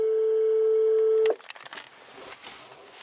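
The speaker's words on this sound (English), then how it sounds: "Yes, it's dialing." A phone places a call to Renault roadside assistance from a Renault Zoe Q90 ZE 40 with an empty battery: a steady electronic tone holds for over a second, then cuts off, leaving faint clicks and quiet background noise.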